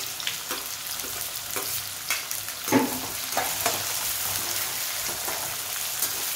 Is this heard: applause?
no